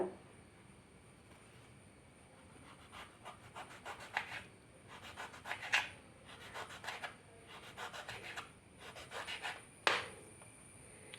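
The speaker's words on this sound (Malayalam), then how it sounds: "ഇനി നമുക്ക് ഓരോ പീസും ചെറിയ കഷ്ണങ്ങളാക്കി ഒന്ന് കട്ട് ചെയ്തെടുക്കാം" A knife cuts a lemon, peel and all, into small pieces on a board for a South Indian lemon pickle, giving soft, faint irregular scraping taps in clusters, with no talk.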